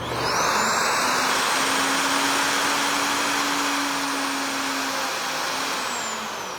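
Wen router in a workshop starting up slowly and settling into a loud steady high-pitched whine, close and continuous with a slight rising pitch at the start.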